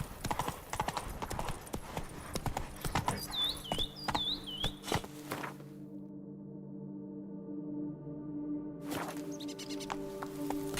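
Roach the horse trotting in The Witcher 3, a steady run of close hoof clip-clops with a short whinny-like call partway through, then the hoofbeats drop away to a quieter ambient stretch before resuming faintly.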